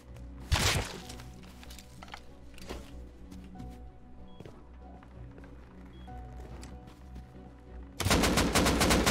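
AK rifle firing in a video game: a few scattered single shots, then a rapid, loud burst of automatic fire at the end over faint background noise.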